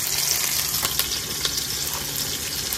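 Whole spices such as dried red chilli, bay leaf, cinnamon, cardamom, cloves and cumin tempering in hot oil with ginger paste, a loud continuous sizzle with brief crackling bursts, close by.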